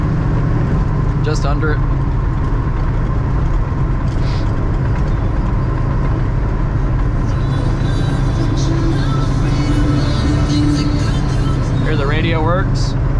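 A 1939 Chevrolet Master Deluxe cruises at 55 mph around 2000 RPM, a steady low engine drone with road rumble, heard from inside the car under a brief spoken phrase.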